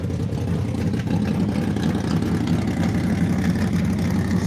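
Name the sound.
go-kart engine idling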